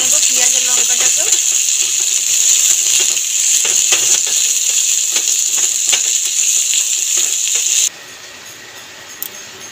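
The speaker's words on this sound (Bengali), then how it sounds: "ধীরে ধীরে ভেজে নেব পেঁয়াজ আর লঙ্কাটাকেও" Sliced onions and chilies sizzle slowly in hot oil while a fish-tail bhorta is cooked in Mawa ghat style, a steady bright hiss with small crackles and pops that drops away abruptly near the end.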